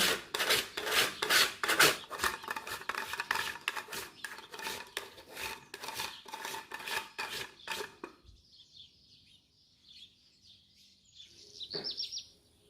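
Dark chocolate is grated onto a cake with quick, rhythmic rasping strokes heard up close. The scraping then stops, leaving a quiet stretch with faint light clinks.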